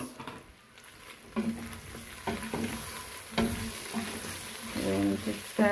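Onions frying in a pan for a beef wet fry, a soft steady sizzle broken by repeated scraping and clacking strokes of a spoon stirring, close and fairly quiet with no talk.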